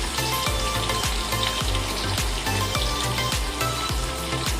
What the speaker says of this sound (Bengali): দেখুন মাছগুলো ভাজা হয়ে গেছে বলে আমি উল্টে দিয়েছি